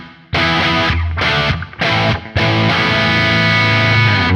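Loud distorted electric guitar chords through a Neural DSP Quad Cortex room reverb, several struck and cut off before a long sustained chord that rings out with a roomy reverb tail.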